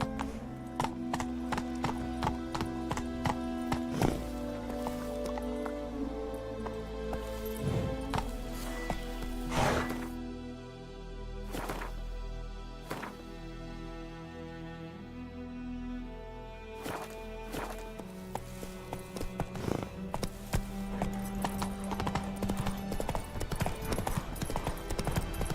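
The horse Roach gallops in The Witcher 3, rapid rhythmic hoofbeats clip-clopping over ground with brief pauses and shifts in pace, alongside game music and occasional snorts.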